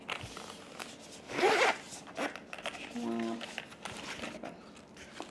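Zipper on a carrying case for a small UFO-style lamp is pulled in one quick, close rasping stroke, with someone talking around it and light handling noises before and after.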